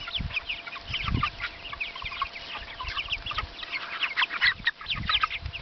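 Chickens cluck steadily in a pasture pen on a farm, laying hens and larger meat birds calling together at moderate distance, with a rooster's crow rising briefly among the continuous overlapping clucks.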